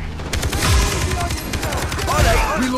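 Rapid bursts of AK rifle fire from a Far Cry 3 shooter game, dense automatic volleys repeating steadily throughout, loud and close, with faint speech in the background.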